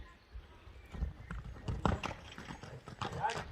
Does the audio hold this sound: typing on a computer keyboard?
no